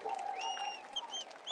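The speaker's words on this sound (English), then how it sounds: "Give yourselves a round of applause" Crowd applause at an outdoor street protest, a steady spread of clapping with faint cheering carried over a long stretch, with a brief louder burst at the end.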